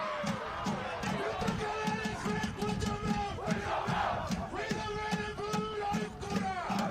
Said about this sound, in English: So we've got some seniors here trying to rally the crowd.